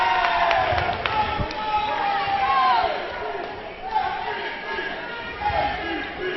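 Crowd cheering and chatter at a Euros 2014 mixed match between Ireland and Italy, a lively continuous roar with excited shouts rising and falling, under steady commentary.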